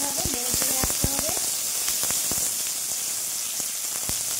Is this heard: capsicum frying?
yes